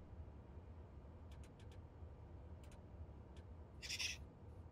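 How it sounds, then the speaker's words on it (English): A bird calls outside with a few short, faint high chirps followed by a brief louder burst, distant over a low steady hum of traffic or engine noise. "I've got a bird outside."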